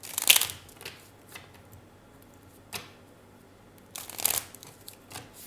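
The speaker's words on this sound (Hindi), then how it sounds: "सबसे पहले हम इस डेक को शफल कर लेंगे।" Tarot deck being shuffled by hand in short bursts of crisp riffling, two louder bursts near the start and end with a few faint card slides between, close and quiet with no talking.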